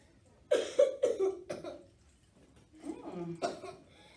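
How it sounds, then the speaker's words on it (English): A child coughs hard several times in quick succession, then pauses and coughs again in a short burst, close and fairly loud. "you're coughing kind of hard there, buddy"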